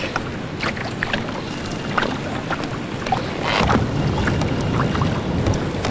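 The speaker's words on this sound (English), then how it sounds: "We canoe right underneath it." Canoe gliding on open water near a rock formation, with soft paddle splashes and drips over steady wind and water wash, a little louder toward the end, and no talking.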